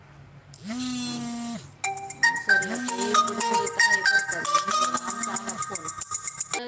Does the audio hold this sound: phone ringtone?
yes